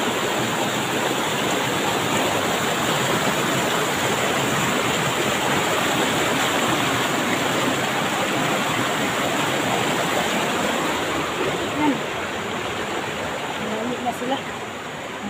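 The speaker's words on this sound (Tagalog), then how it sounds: "Sirang-sira na ang sapa dito, no?" A badly eroded creek rushes past in a steady, loud, broadband roar of flowing water that stays constant throughout, heard close with no clear pauses or distinct splashes.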